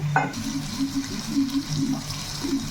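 Rice for mutton biryani being washed in a vessel, with close, steady sloshing and swishing of water under hands, continuous and moderately loud.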